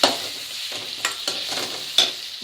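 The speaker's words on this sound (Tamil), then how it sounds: "போட்டுட்டு இப்படி கொஞ்சம் நல்லா கிளறி விடுங்க." Brinjal masala stirred in a hot pan at home, a spoon scraping and pushing the sizzling mixture in several distinct strokes over a steady frying hiss, close and clear with no talk.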